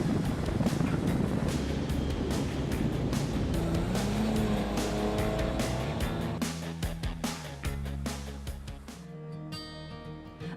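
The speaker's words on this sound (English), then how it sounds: "the world's fastest amphibious car" Amphibious Water Car, billed as the fastest of its kind and built in Fountain Valley, driving with a sustained engine roar and rushing noise that gradually fades, overlaid by rising music toward the end.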